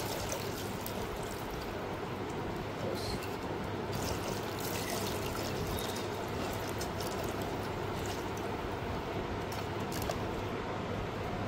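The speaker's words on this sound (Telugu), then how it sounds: "నీళ్ళు పోస్తున్నాను ఇప్పుడు చూడండి, ఒకసారి కలుపుతున్నాను" Water pours in a steady, continuous stream onto chopped chillies and is mixed in while a chilli pickle is prepared, a close, even rushing wash that runs unbroken throughout.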